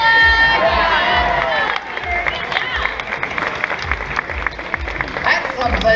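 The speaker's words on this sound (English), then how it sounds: "And big round of applause!" Crowd at a bird show in Walt Disney World's Animal Kingdom, Florida, bursts into applause and scattered cheers, overlapping a presenter's voice at the start, then dense outdoor clapping continues with occasional shouts.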